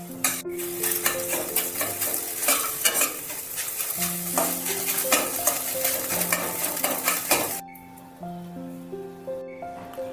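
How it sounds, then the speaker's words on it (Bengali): An egg omelette in a pan is stirred and broken into pieces under a loud, continuous sizzle, with repeated metallic spatula scrapes and clinks close by. Near the end it quiets briefly. "ডিমের অমলেট করার সময় আমাকে নেড়ে একটু টুকরো টুকরো করে নিতে হবে।"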